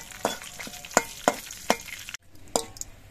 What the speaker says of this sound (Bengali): এগুলো নাড়াচাড়া করে ভেজে নিতে হবে।